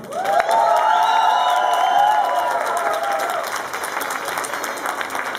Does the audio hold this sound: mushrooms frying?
no